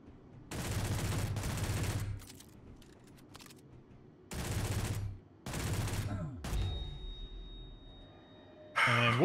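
Gunfire in a video game, heard as several loud sustained bursts of rapid shots separated by short pauses, with a voice talking between the volleys.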